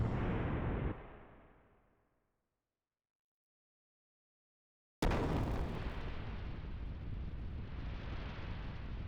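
A ship's gunner fires in the video game Xenogears, a loud roaring explosion that fades to silence, then a second sudden heavy blast that rumbles on steadily.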